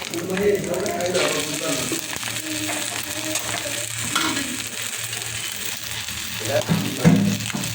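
Egg and noodles frying in a pan with sauce added, a steady sizzle and crackle with occasional stirring clatter running throughout, with some voice present in the background.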